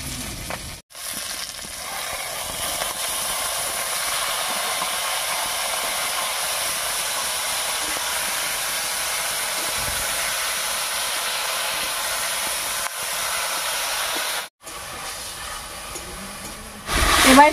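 Taro greens hit a hot pan with garlic and green chillies, setting off a loud, steady hiss of steam and sizzle that runs unbroken at close range, with a couple of short clanks.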